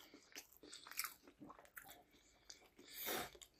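Close, quiet crunching bites and chewing of air-fried popcorn beef, with several sharp crisp crunches in uneven rhythm and soft mouth sounds between them.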